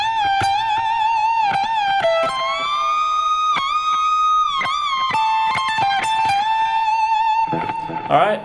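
An electric guitar plays a phrase from the solo of a song, a sustained lead line with bends and vibrato, distorted and singing, separated by brief picked attacks.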